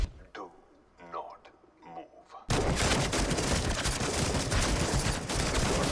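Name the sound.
heavy gunfire in a movie scene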